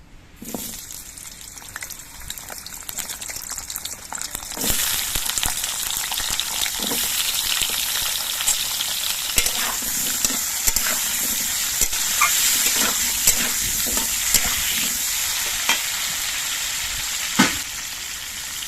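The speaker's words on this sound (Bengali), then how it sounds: "তেলটা গরম করে নিয়ে আমি কেটে রাখা আলুগুলো ভেজে নিচ্ছি" Potatoes sizzle steadily in hot mustard oil, a continuous crackling hiss that grows louder after a few seconds, with occasional stirring scrapes and clinks.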